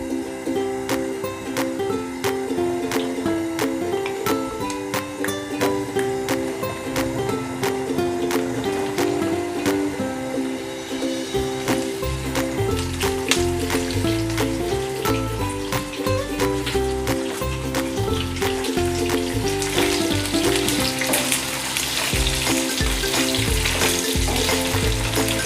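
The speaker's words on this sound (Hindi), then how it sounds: "तो 3-4 मिनट के लिए मैं फ्राई करूँगी क्योंकि ये ऑलरेडी गला हुआ है।" Mutton pieces frying in a little heated oil in a pan for a Ranjha ghosht steam mutton recipe, a steady sizzle running throughout with occasional stirring clatter, loud and close, with no talking.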